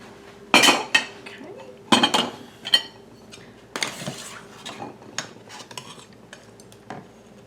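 Glass canning jars for pickle relish clinking and knocking as they are set into a canner, several sharp close clanks in irregular bursts with softer rattles between, no talk.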